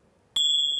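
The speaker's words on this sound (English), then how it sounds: "just chime the chimes, and the kids know that it's time to find their yoga seat" Tingsha chimes are struck to start a children's yoga class, a single sudden bright metallic ring that sustains clear and loud after the strike.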